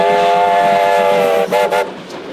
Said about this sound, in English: So the 1950s Hudson came in light engine, was quickly turned, oiled and watered.